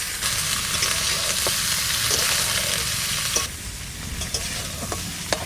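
Cauliflower stirred and fried in a pan over low heat, a steady crackling sizzle running throughout with scattered scrapes of a utensil, the frying dropping slightly quieter midway.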